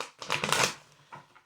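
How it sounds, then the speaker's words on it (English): Tattoo Tarot card deck, a stiff deck that is hard to shuffle, riffled loudly up close in one crisp burst, then a shorter softer flutter of cards after a brief pause. "I've been shuffling the deck quite a bit now"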